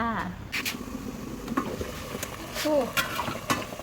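Bamboo shoots cook in a pot with cooking oil added, giving close scraping stirs and a soft sizzling bubble, heard under a person talking throughout.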